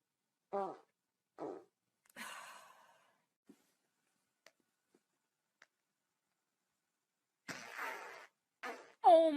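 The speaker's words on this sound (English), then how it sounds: "I farted." Several short, low, buzzy fart bursts spaced apart, close and fairly loud, with a few faint clicks between them and a louder final burst, and no speech.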